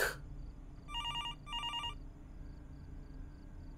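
A phone rings twice in quick bursts in the horror game Fears To Fathom, a trilling bell set against a quiet, droning room tone with nobody speaking.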